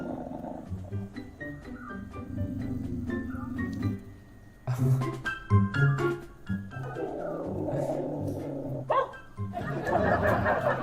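Dogs seeing their reflection in a mirror for the first time, giving scattered barks and growly vocalizations amid household background noise, with people talking and laughing throughout.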